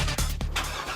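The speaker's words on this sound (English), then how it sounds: "That's the sound of America's only sports car." A Corvette sports car engine gives a loud, close, rough burst of revving that lasts about a second with brief dips between pulses.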